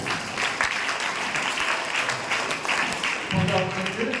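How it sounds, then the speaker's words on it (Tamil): A hall audience of students and guests at a science event claps steadily together for a few seconds, a sustained ripple of applause with faint voices mixed underneath. "ரியலி நல்ல ஒரு கரவொலி எழுப்பி பாராட்டு தெரிவிப்போம்"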